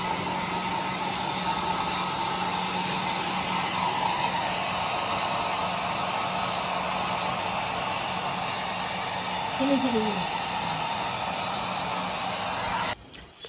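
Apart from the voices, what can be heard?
hair dryer blowing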